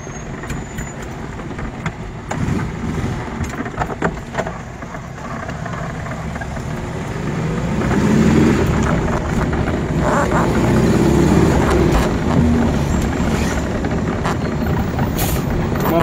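A 1972 VW Variant with a Solex 35 mm carburetor drives along, its engine a steady low drone with road rumble that swells louder midway as it pulls, continuous throughout without talk.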